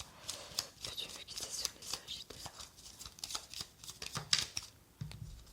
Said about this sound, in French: On va regarder sur ces 4 cartes là